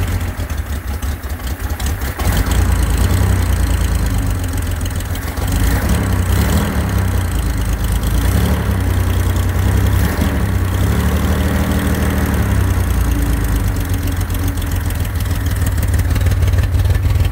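A cold carbureted engine cranks on a remote starter and catches, settling into a steady, loud, rumbling idle with a rough uneven pulse throughout.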